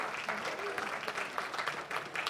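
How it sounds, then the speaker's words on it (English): Brief audience applause at a church service, a modest spread of hands clapping, fairly soft and steady, with a faint voice mixed in. "You can give him an applause because he's waiting for tomorrow."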